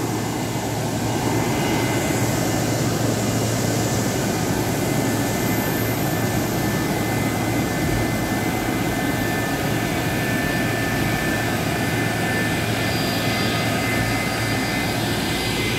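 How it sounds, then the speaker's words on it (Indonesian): A loud, steady jet engine roar and whine close by, continuous throughout as a McDonnell Douglas MD-82 airliner rolls slowly on the ground toward its parking stand. "Saat ini pesawat Airbus sudah mulai pendekatan masuk ke arah parking stand nomor 6"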